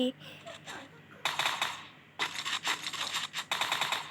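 Rapid bursts of video game gunfire crackle in two dense volleys with a short gap between them, moderately loud, with faint background chatter.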